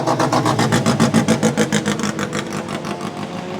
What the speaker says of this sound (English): Oh, looks like we got a couple more cars coming now.